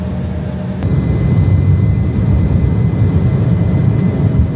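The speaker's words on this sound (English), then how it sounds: "It's time for our teeny little aircraft to take flight." A small passenger aircraft taking off from Asheville, heard from inside the cabin as a loud, steady low engine roar that swells slightly as the plane accelerates, with no talking.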